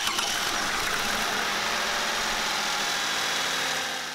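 A Toyota car engine, from the Camry, Aurion or Avalon family, runs at a steady idle during an alternator voltage test, a close, even hum with a faint mechanical vibration and no talking.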